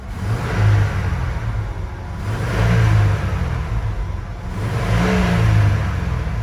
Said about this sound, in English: So I'll give it some revs.